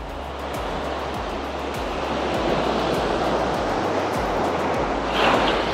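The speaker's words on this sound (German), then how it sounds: "es ist sogar Sandstrand hier, also richtig schöner Sandstrand" Waves washing onto a sandy beach at Arinaga on Gran Canaria, a steady broad surf rush with a swell building near the end, accompanied by low wind rumble.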